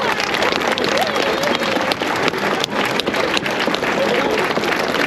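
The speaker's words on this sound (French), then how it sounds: "Je voudrais remercier Franck, que vous connaissez, un applaudissement." Crowd applause at an outdoor rally in support of the police, a dense steady wash of clapping lasting throughout with some voices mixed in.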